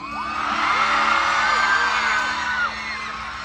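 A large concert crowd in Dagupan shouting together on cue, one loud sustained roar of whoops and yells that swells and holds for about three seconds before dropping off.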